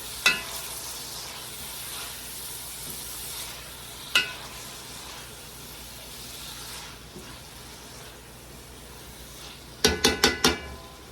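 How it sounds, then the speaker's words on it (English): A Zuppa Toscana soup base with red pepper flakes sizzles steadily in a pot, with a few sharp utensil clicks early on and a quick burst of scraping stirs near the end. "You just give that a quick stir."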